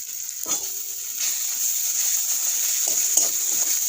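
Spice paste of cumin, coriander and chilli powder fries in a pan for a Bengali bhetki fish dish, a bright continuous sizzle close by, with a few soft spatula scrapes and stirs, no voices.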